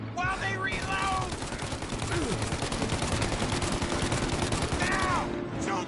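A video game shootout in Mafia Definitive Edition fills the clip with dense, continuous gunfire as rapid shots crackle close and loud, while voices shout over the din.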